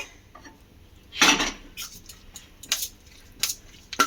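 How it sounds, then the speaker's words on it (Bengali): Batter ingredients and tomato sauce are stirred together in a bowl, heard as a spoon clinking and scraping against the sides in short, irregular bursts, one louder clatter early, over a quiet room. "তো টমেটো সসটাও দিয়ে খুব ভালো করে মিশিয়ে নেব।"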